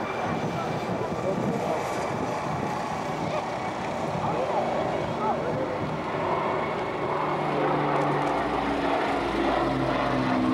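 An Avro Lancaster bomber flying at the 2007 Little Gransden airshow gives a steady, rumbling engine drone throughout, heard under an announcer speaking over a public address.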